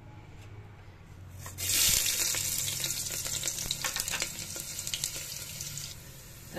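Tempering of onion, garlic, a chili, cumin and a pinch of asafoetida hits hot oil for moong dal khichdi, bursting into a steady crackling sizzle that stays fairly soft and continuous, with no talk.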